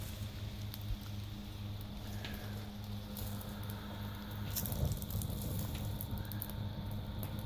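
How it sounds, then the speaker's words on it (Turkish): A small fire kindled with tinder fungus (kav mantarı) burns quietly outdoors, giving soft steady crackles and faint sizzling pops, with no talking. "ateşimizi kal mantarıyla yakabiliyoruz."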